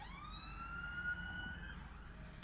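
A police car siren passes in the distance with a single rising, sustained wail that fades, faint and steady over low road rumble.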